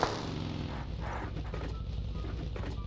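Gunfire in PUBG Mobile, a sharp shot at the start followed by distant, muffled pops and rumbling over steady low background noise.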